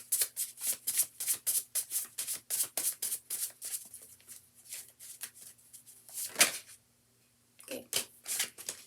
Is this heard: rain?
no